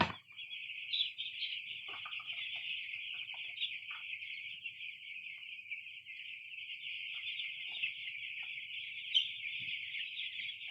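A flock of chickens being vaccinated fills the air with a dense, continuous high chorus of calls, steady and moderately close, with a few scattered clucks and knocks.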